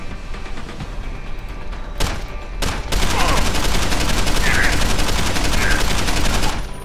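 Loud rapid automatic gunfire from the video game Deus Ex: Human Revolution, starting with a few bursts and then a sustained dense volley of shots that runs for several seconds.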